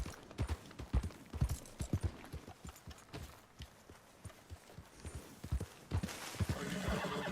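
Horse hooves clip-clopping in a quick, uneven gallop rhythm in Red Dead Redemption 2, with a whinny and rising hoofbeats and movement toward the end, fairly close and with no talk over it.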